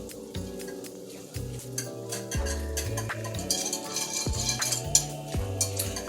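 A utensil stirs melted margarine and butter in a pan, with soft scraping and clinking over a faint sizzle, while background music plays throughout.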